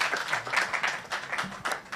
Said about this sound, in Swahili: Makofi moja ya Titus akiingia.